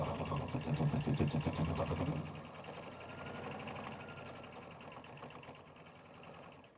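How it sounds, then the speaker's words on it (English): A sewing machine stitches down one long side of right-sides-together fabric to form a handle tube for a tote, running as a steady rapid whir, louder for the first two seconds, then continuing at a lower, even level. "we're just going to stitch down one long side, creating a tube"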